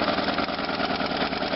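An engine idles steadily at a standstill, a constant close and loud mid-pitched running hum with no break or change in speed.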